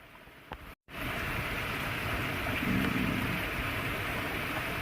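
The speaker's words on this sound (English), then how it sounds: "It's raining hard." Hard rain falling outdoors, a steady dense hiss of downpour that swells after a brief cut, loud and continuous with no talk.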